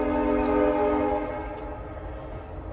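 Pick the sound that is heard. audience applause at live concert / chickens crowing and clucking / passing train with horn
passing train with horn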